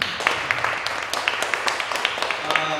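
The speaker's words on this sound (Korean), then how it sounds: "박수 한번 치시기 바랍니다" An audience at a church service claps together in a steady patter of many hands, moderately loud and continuous throughout.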